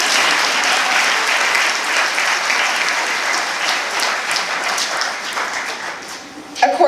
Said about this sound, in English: Round of applause, yeah.